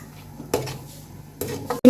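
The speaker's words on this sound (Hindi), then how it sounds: "अब देखिए मसाला अच्छे से भुन गया है।" Whole spices and cumin seeds roasting for egg pulao are stirred in a pot, with a few sharp metal clanks and scrapes of the spoon over a faint low sizzle, the last clatter loudest and closest.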